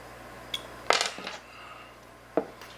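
Small metal clicks and clinks as a metal firing pin stop is dry fitted into a 1911 pistol slide: a light tap, a brief cluster of rattling contacts, then one more sharp click, close and fairly quiet.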